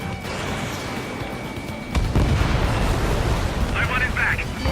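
Missile explosions from the Ace Combat 7 air combat game rumble as a steady wash of noise that swells into a louder, heavier boom about halfway through, with a voice speaking over it.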